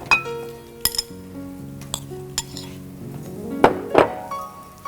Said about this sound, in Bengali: প্রথমে আমি সেদ্ধ আলুটা দিয়ে নিচ্ছি।